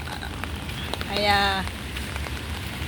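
Rain falling outdoors while walking, a steady soft patter close by with a brief spoken word over it partway through.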